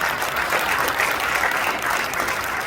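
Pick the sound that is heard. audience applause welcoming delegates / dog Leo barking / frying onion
audience applause welcoming delegates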